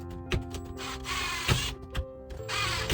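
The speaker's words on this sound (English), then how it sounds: "then screwed it in with 4 screws, one on each corner, to make it really secure" A power drill drives screws into wood while a garden obelisk is built, giving a few short whirring bursts with sharp knocks between them, close and fairly loud, with no talking.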